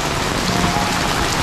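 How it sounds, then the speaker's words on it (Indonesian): Heavy rain pours steadily on a village path beside a salak plantation, a dense, loud, unbroken hiss close by with no voices. "Sangat begitu deras nih hujannya"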